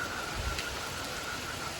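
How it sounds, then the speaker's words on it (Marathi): Steady, dense rainfall pouring down without pause, a constant broadband hiss with a low rumble underneath. "आता इकडे तुम्हाला अंदाज येऊन जाईल नाही की केवढा पाऊस आहे"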